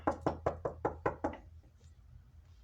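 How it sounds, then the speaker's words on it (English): Six firm knocks on a door in a quick, even rhythm, close and loud, followed by quiet. "I had a knock on the door"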